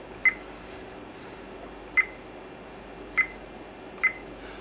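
Fluke multimeter on continuity test giving four short, faint beeps at irregular intervals over a quiet background hiss.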